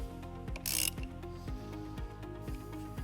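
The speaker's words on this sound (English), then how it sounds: "We're going to remove this nut using a 10mm socket." A ratchet with a 10mm socket loosens the terminal nut on a 2007 Dodge Nitro car battery, rapid steady clicking at close range with one brief louder metallic scrape partway through.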